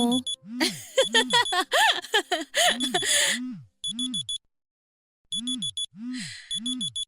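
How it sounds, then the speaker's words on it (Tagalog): A cellphone alarm rings with a repeating electronic melody of rising and falling tones and beeps, loud and close, with short pauses between phrases. "Nag-alarm lang po yung cellphone ko."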